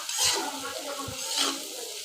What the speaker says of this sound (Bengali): আলুগুলো দিয়ে আমি মশলাটার সাথে ভালোভাবে একটু মিশাই নিব